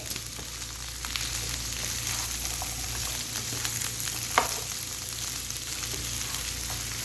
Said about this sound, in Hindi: अच्छे तरीके से भिंडियों को फ्राई कर लेंगे हम लोग तकरीबन 1 से 2 मिनट के लिए